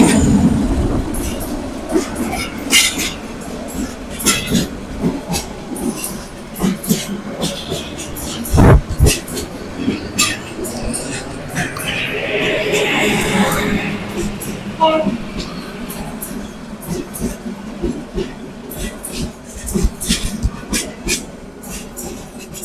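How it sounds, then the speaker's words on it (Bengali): A train rolls through a railway station, with heavy rumbling, clattering wagons and squealing wheels rising and falling close by, while people talk over it. "এই একটা ট্রেন আইতেছে, এদিক করো"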